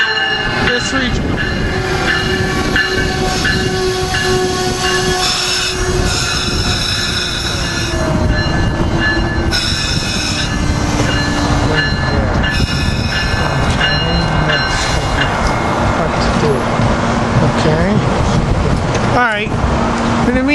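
An ACS-64 electric locomotive leads a train rumbling past close by at Cornwells Heights station, loud wheels clattering and squealing on the rails with a steady mechanical roar throughout.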